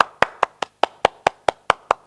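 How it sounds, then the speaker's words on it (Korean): Children at a Sunday worship service clap in a steady, even rhythm, about ten sharp claps in two seconds, close and clear with no talking. "박수 한번 해주세요"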